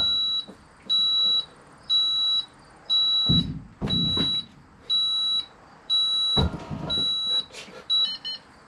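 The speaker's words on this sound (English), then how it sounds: "the beep beep says, hey, we're good to go." An RV system gives repeated electronic beeps in a steady on-off pattern, clear and close, with brief rustling and clunking noises between some beeps.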